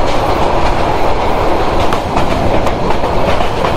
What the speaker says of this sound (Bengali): আজকের এই তিস্তা এক্সপ্রেস ট্রেন জার্নির মাধ্যমে